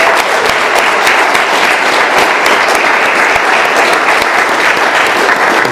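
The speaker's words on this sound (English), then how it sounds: "let's give our speaker, Eric, one more round of applause" Loud, dense applause from a gathered audience at an AA meeting in Doylestown, Pennsylvania, sustained and even from start to finish with no talk over it.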